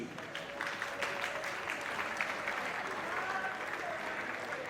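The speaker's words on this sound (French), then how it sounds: "Vos applaudissements pour le marié" Wedding guests applaud the groom at a reception, a steady wash of clapping from a crowd held at an even level throughout, with faint voices and a thin tonal line mixed underneath.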